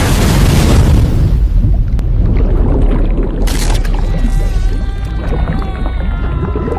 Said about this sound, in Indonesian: ombak dan badai terus-terusan menghantam perahu karet milik Chuck.